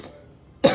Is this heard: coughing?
yes